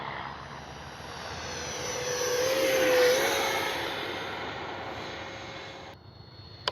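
A Freewing L-39 RC jet with an 80mm ducted fan flies past, its whine swelling to a peak and then fading away, with a steady tone sliding in pitch as it passes.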